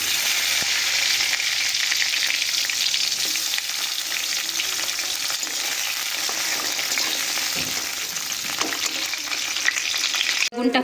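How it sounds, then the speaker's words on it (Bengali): Salted, turmeric-coated eggplant pieces fry in hot mustard oil with a steady, loud broadband sizzle that holds for the whole stretch, a few faint clinks of a utensil against the pan, and no voices. "এবার নুন হলুদ মাখিয়ে রাখা এই বেগুনগুলো আমরা ভালো করে একটু ভাজা করে নিচ্ছি।"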